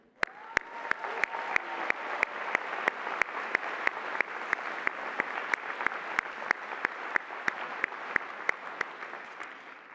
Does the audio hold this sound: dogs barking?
no